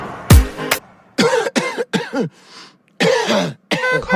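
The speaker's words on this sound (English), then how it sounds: "Coughing." A person gives a run of harsh, close coughs in uneven bursts, about six in all, with short gaps between them and no speech.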